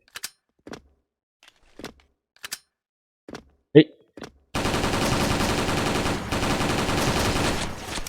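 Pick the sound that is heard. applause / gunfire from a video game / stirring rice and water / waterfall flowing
gunfire from a video game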